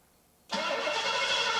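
A test engine fitted with an Autolite 4100 carburetor jumps suddenly from near silence into a steady, fairly loud running roar.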